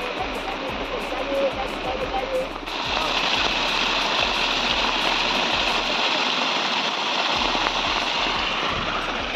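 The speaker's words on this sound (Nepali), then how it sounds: "इ पानीहरू यसरी झर्दैछ यता हाम्रो" Rainwater pours and streams steadily down into a farm field near a maize crop during a downpour, a continuous close wash of water with low rhythmic thumps underneath and no speech.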